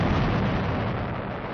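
A deep, sustained explosion rumble from the Tunguska meteorite event, loud and broadband, rolling steadily for over a second with no voices over it.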